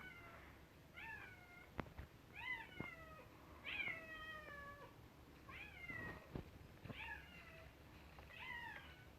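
A house cat meowing up close, repeated plaintive mews spaced across the stretch with a few sharp knocks between them, over a quiet room background.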